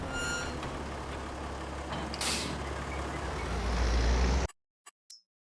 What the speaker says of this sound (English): I'm just going to drop this trailer in here.